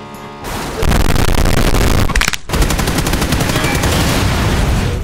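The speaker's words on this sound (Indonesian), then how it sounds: "aku dengar ada suara tembakan loh kalau nggak salah" Rapid bursts of automatic gunfire and shots in a PUBG battle game, loud and continuous across the whole stretch with a brief dip in the middle, no talk over it.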